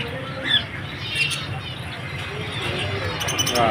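Shrill squawking calls of lovebirds ring out in an aquarium shop amid a busy, noisy background with a murmur of voices.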